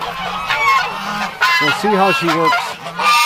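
Geese being let out of their pen with ducks give a burst of loud, nasal honks up close, repeating in quick overlapping calls while someone speaks briefly over them.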